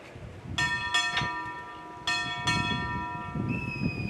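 Four bright bell strikes sound in two close pairs at a naval change of command ceremony, the ship's bell tones lingering and decaying between each double ring.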